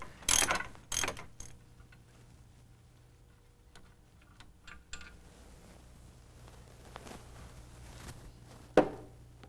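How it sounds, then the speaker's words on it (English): A ratchet tightens the compressor bracket bolts on a 1996 Buick A/C system, making a few loud clicking bursts at the start, then quieter scattered ratcheting clicks and a final sharp click near the end. "install longer bolts and torque them to 100 Newton meters or 74 pound-feet"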